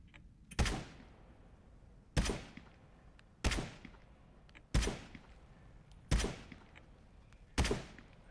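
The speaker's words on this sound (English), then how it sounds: "He's shooting from the window, way over there." Six sharp, evenly spaced gunshots ring out at roughly 1.5-second intervals, each followed by a short decaying echo, as an enemy fires from a distant window in the game Into the Radius 2.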